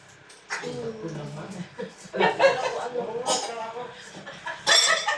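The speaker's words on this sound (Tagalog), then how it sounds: "May isa pang manok." A chicken clucks in short bursts up close while people talk and laugh over it.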